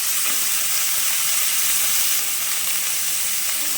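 Taro leaves and lentils fry loudly in a pan, a dense hissing sizzle that stays steady and close throughout, with no talking.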